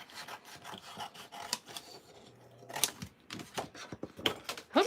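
Scissors cut through gold craft paper with a steady series of close, crisp snips and rasping slides, uneven in rhythm and heard alone.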